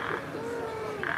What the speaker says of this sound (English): What is that, a frog?